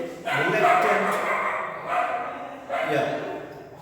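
A dog barks in three loud, rough bursts over a steady background, heard close and without clear talk.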